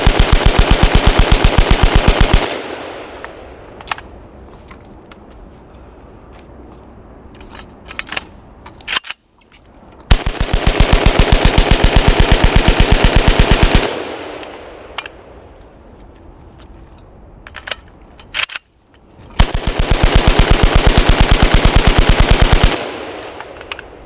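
A gun is bump fired in three long, loud bursts of rapid, continuous shots, each lasting several seconds, with brief quieter gaps between them that hold faint clicks and handling noises.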